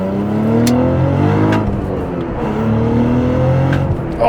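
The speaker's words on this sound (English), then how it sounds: "If we can, let's do one more acceleration here." Cadillac CT4-V Blackwing accelerating hard through the gears, its engine note climbing in rising sweeps with a brief dip at a shift, loud and close from inside the car.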